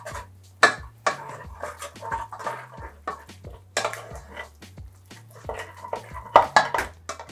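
A spoon works an egg into hot choux pastry dough in a pan, with irregular scraping, knocks and clinks of utensil on metal and a low steady hum underneath.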